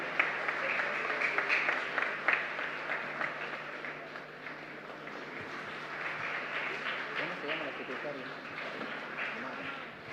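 Applause from a congregation during Mass in a parish church, a steady crowd of clapping lasting several seconds with voices murmuring and talking underneath.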